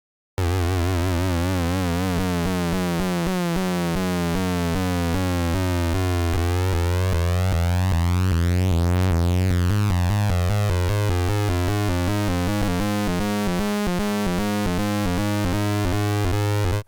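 A Minimoog Model D analog synth holds a sustained buzzy tone while an LFO sweeps its pitch and timbre in wavering, warbling cycles, steady and loud for the whole stretch with no voice.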